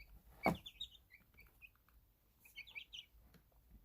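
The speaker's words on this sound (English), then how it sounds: "Oh, lovely little chickens, lovely." Soft chirpy bird calls from chickens come in two short bursts, with one louder sharp note near the start over quiet outdoor background.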